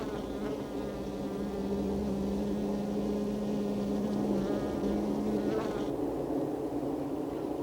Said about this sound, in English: As gathering bees return to the hive, they must be identified by the guard bees at the entrance.